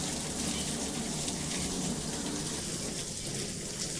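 Water runs steadily from a pipe onto solar panels during cleaning, a soft continuous hiss and patter like light rain, low and even throughout.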